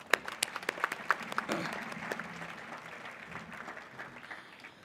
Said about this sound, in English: a big round of applause to these toppers